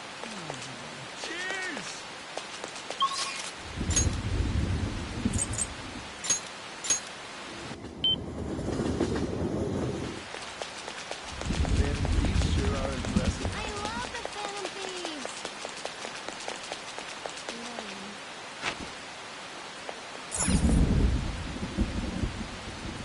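Heavy rain falls in the video game Persona 5 Royal, a steady hiss interrupted by several deep rumbling swells like thunder rolling through, with a few faint voices and game sounds over the downpour.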